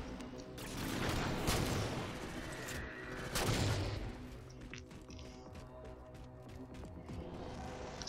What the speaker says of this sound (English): Overcharged my plasma pistol, throw a plasma grenade, totally got the kill.